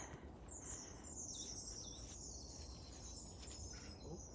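Small birds in Hawthorn Wood at WWT Washington give alarm calls at a sparrowhawk, as faint, thin, repeated high chirps carrying over a low, constant woodland hiss with no talking.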